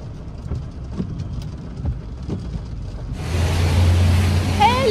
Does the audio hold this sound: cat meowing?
no